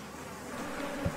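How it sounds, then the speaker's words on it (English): Killer bees buzzing in a steady, dense drone while in pursuit, a continuous insect hum that fills the short stretch at moderate level, with a brief low thump near the end. "Killer bees have a unique and chilling characteristic. They will relentlessly pursue fleeing victims."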